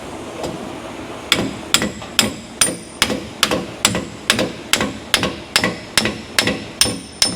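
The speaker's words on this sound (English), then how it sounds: "So I can hammer it on" Steady metallic hammer strikes on a bearing nut of a 2005 Ford F-150 9.75-inch axle pinion, about two per second, ringing sharply and close, with no talking.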